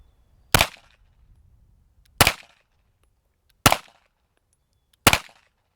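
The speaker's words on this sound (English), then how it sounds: "This is the prototype barrel again. Four rounds, prototype barrel." Four sharp, evenly spaced pistol shots from a Smith & Wesson M&P 2.0 fitted with a prototype barrel, each a loud isolated crack with a short tail and quiet between.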